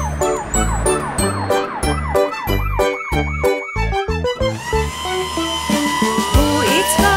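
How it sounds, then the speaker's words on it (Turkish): A fire engine siren wails in rising and falling sweeps inside a Turkish children's song about a fire truck, loud and up front over bouncy music, then slides into a long steady tone. "bu itfaiye aracı sireni ve lambaları"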